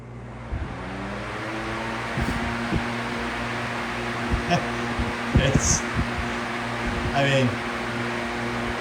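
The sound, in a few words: electric fan spinning down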